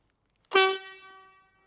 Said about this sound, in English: if I click it twice, you'll hear this Buffalo brand horn honk